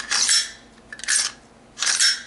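Loose T1C MK18 upper parts wobbling in the hand produce three short bursts of light metallic rattling and scraping, close and dry, separated by brief silences, with no talking.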